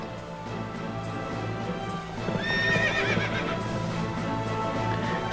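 Horses trot with steady clip-clop hoofbeats under a low rumble, and a loud whinny rises partway through, all within an anime battle scene with no talking.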